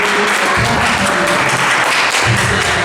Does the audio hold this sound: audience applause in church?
yes